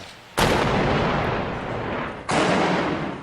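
Two heavy artillery blasts from the fighting in Syria, each a sudden loud boom that rolls out into a long rumble, the second arriving about two seconds after the first.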